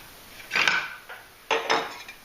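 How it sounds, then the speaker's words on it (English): Serrated saw-blade knives drawn across a sharpener, two close, rasping metallic strokes, each a short gritty scrape, with a quieter touch between them. "I'm going to sharpen all the serrated saw blade knives."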